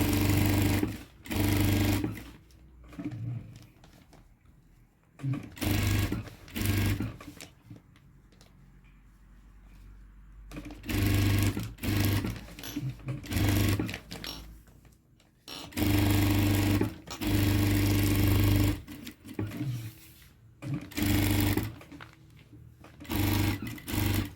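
A sewing machine runs in repeated bursts while stitching a puffy blouse sleeve, each run a loud steady whir with short pauses between, alone and close.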